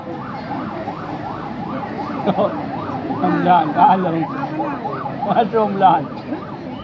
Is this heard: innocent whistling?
no